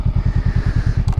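Close, loud motorcycle engine idling or chugging off-road, a rapid even thumping pulse of about ten beats a second with a brief clattering rattle near the end.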